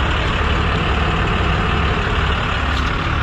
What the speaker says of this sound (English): I'm just gonna let the truck run because we have AC